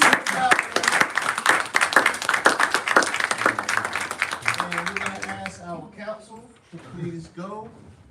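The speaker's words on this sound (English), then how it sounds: "give him a big round of applause" Audience applause at a City of Inman graduation awards event, dense clapping that fills the first half and fades out, with people talking over it as it trails off.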